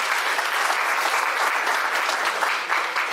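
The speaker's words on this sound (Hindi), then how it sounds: "जरा ताली बजा दीजिए सबके लिए।" Dense, continuous applause from a large audience at a foundation-organised public event in India, an even roar of many hands clapping throughout.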